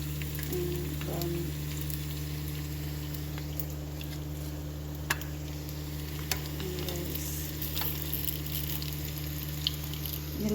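Food sizzles and fries steadily in a pan as lunch cooks, a continuous crackling hiss with a low hum beneath and a few sharp pops and stirring clicks, no voices.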